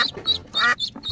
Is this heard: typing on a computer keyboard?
no